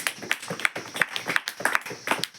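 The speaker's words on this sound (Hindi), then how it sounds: "इसके लिए आप तालियां बजाओ" Children clapping in a classroom during a lesson on natural and whole numbers: a short round of uneven, moderately close claps and taps, with no one speaking.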